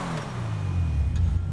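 A Lamborghini Sesto Elemento in GTA V gives a low, steady engine hum that rises slightly as it revs. The sound is brief and moderately loud, with no talking.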